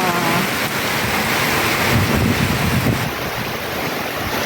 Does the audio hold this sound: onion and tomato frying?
no